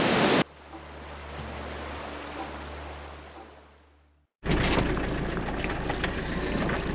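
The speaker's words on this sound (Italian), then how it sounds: "Queste cascate arrivano direttamente dalla roccia e si tuffano in questo fiume." Waterfalls spilling straight out of rock into a river in a Turkish canyon, a steady broadband rush of falling water, with a brief quieter stretch before the full roar returns loud and continuous.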